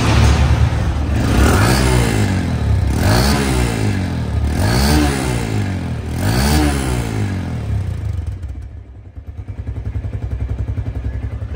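A TVS Metro Plus motorcycle with 2100 km on it idles close by, a steady thumping engine note with four rhythmic rev swells, then a brief drop near the end before the idle returns.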